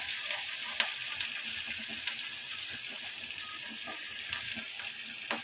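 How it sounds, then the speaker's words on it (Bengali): Chopped garlic, green chili and onion sizzle in a very hot frying pan, a soft, even hiss broken by occasional light clicks and taps of stirring. "ফ্রাই প্যানটা খুবই গরম হয়ে গিয়েছে আমি কিছুটা রসুন কুচি দিয়ে দিলাম এবং কাঁচামরিচ পেঁয়াজও দিয়ে দিলাম একসাথে"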